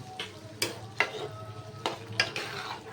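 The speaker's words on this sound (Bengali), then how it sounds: "দিয়ে দিলাম নাড়িয়ে নিচ্ছি একটু নাড়িয়ে নিই" Taro leaves fry in a pan as a utensil stirs them, a soft background sizzle broken by several quick scraping and clinking strokes at an uneven rhythm.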